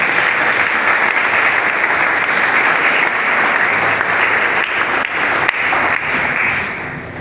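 A church congregation applauds steadily and loudly, a dense wash of clapping from a large crowd that holds for several seconds and then eases slightly at the end.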